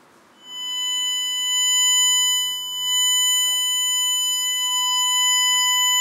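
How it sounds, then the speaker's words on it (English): A steady pure 1000 Hz test tone from a repaired dynamic tweeter holds alone for several seconds, clean and constant with faint harmonics above it. "Let's have 1000 hertz."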